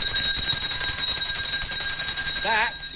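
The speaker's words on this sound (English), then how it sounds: "That is the bell of gratitude." A single bell rings out near the end inside a shop, a bright wavering tone over steady background hum and indistinct chatter.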